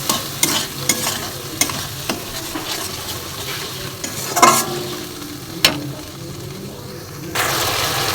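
Mustard paste ground with chilli and tomato frying in a pan for rohu kalia, a steady close sizzle under occasional stirring scrapes and clinks of a utensil.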